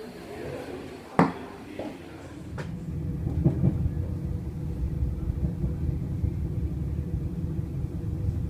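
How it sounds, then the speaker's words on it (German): A train pulls out of a station in Milan: a sharp clack, then a steady low rumble that builds and holds, moderately loud and close, with no talk. "Schauen, dass ich wieder reinkomme, bevor da der Zug abfährt."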